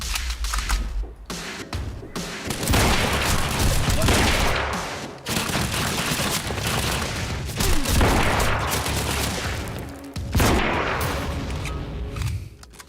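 Sustained, dense gunfire from a Remedy video game: overlapping bursts and booms roll almost without a break for about thirteen seconds, loud and close.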